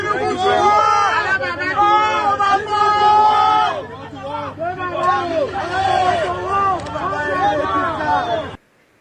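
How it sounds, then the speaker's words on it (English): A massive crowd of protesters fills the air with loud, continuous babble and overlapping voices nearby, and clear speech carries over the roar before it cuts off abruptly. "You see the massive crowd, right? You see how big they are. Just such a humongous crowd."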